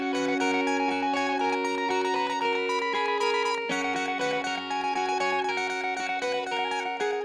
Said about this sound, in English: I had this little tremolo picked line that comes in, providing a brief counter melody